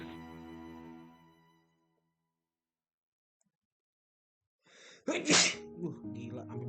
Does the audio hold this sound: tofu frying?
no